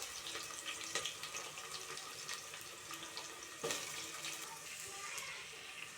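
Onions dropped into hot oil in an idli pot, giving a steady, fairly faint hiss and sizzle with small crackles and a brief louder burst midway, close and without talk.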